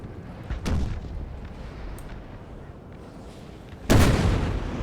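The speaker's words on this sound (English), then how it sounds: "the stray cannonballs miss the guns and hit the infantry behind" Cannon fire on a Napoleonic battlefield at Quatre Bras in Napoleon Total War, with two heavy booming blasts several seconds apart over a steady low rumble of battle, the second louder and longer.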